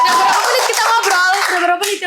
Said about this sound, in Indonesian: Kasih tepuk tangan dong buat Delta.